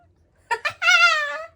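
A child imitates a cat: two short syllables followed by a longer, drawn-out meow-like wail, close and clear against a quiet background.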